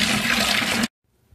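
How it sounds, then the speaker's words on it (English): Water gushes loudly and steadily from the outlet of a Simplicity 1000 DC pump, a close, full rushing pour that cuts off abruptly, leaving near silence. "Here comes the water."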